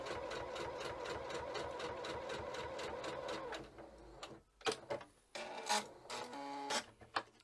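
A Regina (Veritas) sewing machine stitching forward through thick layers, a fast rhythmic mechanical chatter for several seconds that stops, followed by intermittent clicks and handling noises.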